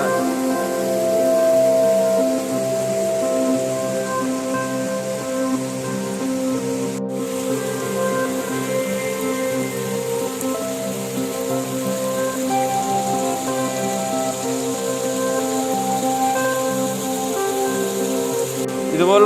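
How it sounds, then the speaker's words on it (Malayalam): Small waterfalls and streams run down a hillside on the Munnar–Marayoor route, a steady rushing hiss of water throughout with a faint underlying hum. "കുഞ്ഞു കുഞ്ഞു വെള്ളച്ചാട്ടങ്ങളൊക്കെ ഇങ്ങോട്ട് വരുന്ന കാണാം"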